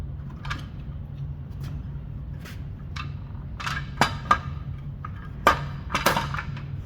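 Irregular metallic taps and clanks of a hammer on a stuck wheel bearing on a Volvo semi truck drive axle spindle, some light and some louder, over a steady low hum.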